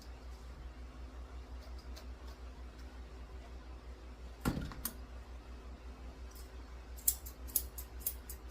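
Scissors trim a Shih Tzu's tail during grooming, giving a few quiet, close snips, a single cut followed later by a short cluster of clicks, over faint steady background hum.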